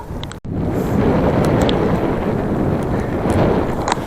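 Steady, loud cold headwind buffeting the microphone in mountains in Sichuan, China, with a continuous low roar, broken by a brief dropout near the start; no voices.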